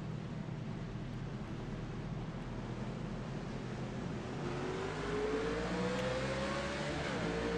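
Engines of a pack of NASCAR Nationwide stock cars at Iowa in iRacing, a steady droning roar that rises in pitch toward the end as the field accelerates for the green flag start, with no talk.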